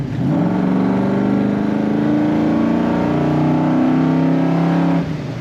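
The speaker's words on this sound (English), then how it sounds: "I just love pushing the throttle on this car" A 1968 Chevrolet El Camino SS engine drones loudly and close, its pitch rising steadily as the throttle is held open, then it drops off near the end.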